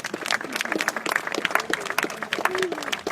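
A crowd at a justice rally claps and applauds steadily for a mourning family, dense and close, with voices mixed in under the clapping.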